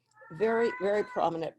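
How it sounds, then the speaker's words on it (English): A house cat gives three drawn-out, loud meows close to the microphone in a home setting, each clearly separated by a short pause. A person's speech overlaps. "Pardon me, that's my cat in the background."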